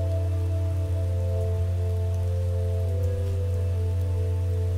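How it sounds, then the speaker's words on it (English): Steady rain falls in the video game Starbound, a continuous even patter over a low droning game ambience, constant in loudness with no speech. "Oh, it's raining. I'm going inside."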